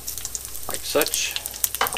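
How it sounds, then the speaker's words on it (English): Roughly cut garlic sizzles in a frying pan as it is stirred, a steady close crackle of frying with brief scraping strokes of the stirring. "Give that a quick stir."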